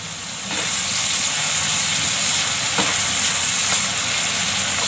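Sliced onions soften in oil in a pan for masala dosa filling, giving a steady, even sizzle with a faint periodic clink of stirring.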